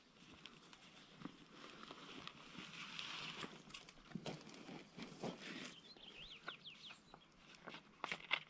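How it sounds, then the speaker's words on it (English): Birds sing in a shaded little forest oasis, with faint, distant chirps and short trills scattered over soft rustling and footstep-like scuffs. "enjoy the sound of the birds and this shaded little oasis."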